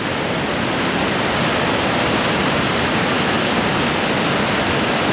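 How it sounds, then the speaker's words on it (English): A big waterfall in a gorge near Lake Louise roars as a dense, steady rush of water, loud and unbroken throughout with no voices. "Big waterfall."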